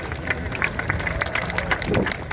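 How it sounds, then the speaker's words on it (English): An outdoor crowd at a supercar showcase at Blenheim Palace gives a round of applause for Richard Hammond's 1956 Isetta entry. The clapping is dense and steady, with crowd murmur and some talk mixed in. "Give him a round of applause, please, everybody."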